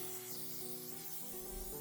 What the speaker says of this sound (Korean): 마무리로 실리콘 이영제 스프레이까지 뿌리면